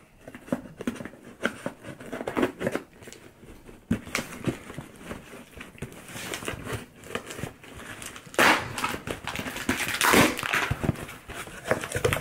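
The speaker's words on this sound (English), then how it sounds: "gotta cut a little bit more." A package is cut open with repeated snips and scrapes, and its plastic packaging crinkles and tears in irregular bursts, close up, with two louder ripping rushes near the end.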